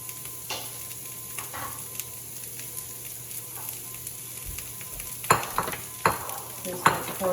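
Peppers and butter sizzle in a frying pan for corned beef hash, a soft steady hiss with light stirring and a few sharper scrapes and clinks near the end, no talking.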